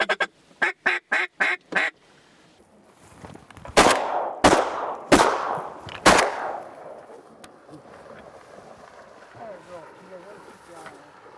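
Teal ducks quack in a quick series of calls during a duck hunt in Mound City, Missouri, then several loud close shotgun blasts ring out, followed by quieter outdoor sounds and faint bird calls.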